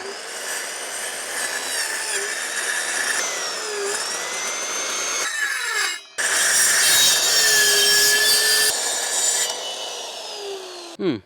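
A track saw slicing through wood and plywood, a loud steady whining cut with a brief pause near the middle before the blade bites again, then winding down at the end.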